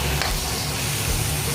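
Small pieces of sliced chicken hit a hot pan for a chicken and broccoli stir fry, giving a steady, loud, hissing sizzle throughout the short moment, with no talking.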